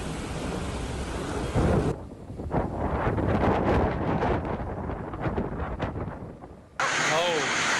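Strong storm wind hitting a town market in Paithan taluka at dusk, kicking up thick dust; a loud, continuous roar of gusts buffets the microphone throughout, its tone shifting sharply near the end.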